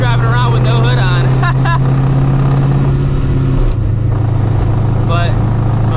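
A loud supercharged New Edge Mustang GT, hood removed, drives along with a steady droning engine note that shifts pitch partway through, while a person talks over it.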